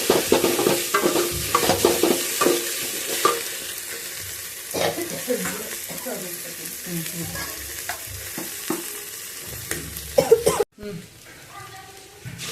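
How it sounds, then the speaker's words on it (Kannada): Okra fries in a pan with a continuous close sizzle and repeated spatula stirring scrapes, while people talk nearby and someone coughs. "ಚೆನ್ನಾಗಿ ಫ್ರೈ ಮಾಡಬೇಕು, ಅವಾಗ ಲೋಳೆ ಬರೋದಿಲ್ಲ."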